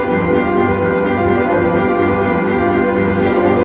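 An ensemble performs Terry Riley's aleatoric piece In C, its many overlapping repeated patterns forming a dense, steady wall of sustained pitched tones that stays loud and unbroken throughout.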